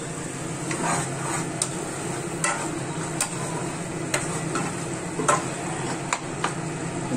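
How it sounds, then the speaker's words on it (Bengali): Spices fry in a pan for khichuri, giving a soft, steady sizzle broken by repeated light clicks and scrapes of stirring. No one speaks. "মশলাটা একটু ভাজা ভাজা হোক"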